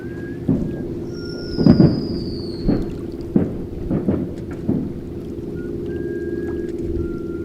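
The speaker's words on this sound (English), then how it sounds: "I'll do my best. Edit. Okay, finally. I spent all afternoon uploading this video." Fireworks burst over a river at night, a series of deep booming thuds spaced a second or so apart, with faint high whistles streaking between them and steady rumbling ambience underneath.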